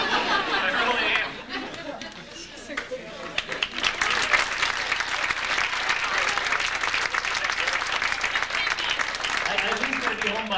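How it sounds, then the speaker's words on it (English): A crowd at a 1997 high school girls' varsity basketball banquet claps in sustained applause for about ten seconds, mixed with scattered chatter and light laughter around the room. "if we can give a round of applause for my wife over there"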